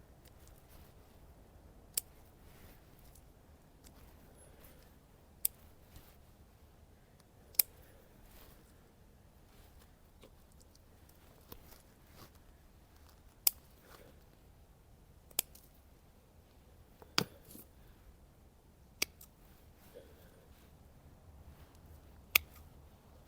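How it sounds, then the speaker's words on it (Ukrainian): Scissors snip thin Cossack juniper branches for bonsai, about a dozen sharp, isolated clicks spaced a second or two apart over quiet room tone. "Такі тоненькі, простіше обрізати ножицями."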